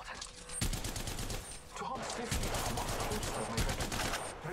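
Rapid automatic gunfire in the mobile video game Apex Legends Mobile, sustained bursts of loud shots with recoil fire, dense and continuous over a few seconds.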